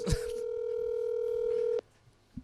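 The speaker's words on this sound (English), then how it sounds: "I'll make a phone call right now." A single steady telephone tone, like a ringback or dial tone from a phone call, holds for almost two seconds, then stops and leaves a quiet room.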